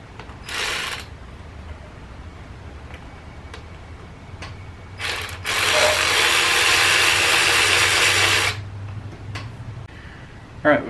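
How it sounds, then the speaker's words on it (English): Ratchet wrench working thermostat housing bolts loose on a 2005–2010 Dodge 3.5L V6 engine, with a short burst of ratcheting followed by a longer, louder stretch of rapid clicking, close up with no talking. "Just going to go ahead and try and get these bolts out."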